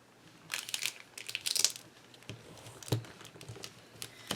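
Paper being folded in half for a junk journal, with a few crisp crinkles and creases, close and fairly quiet, separated by short pauses.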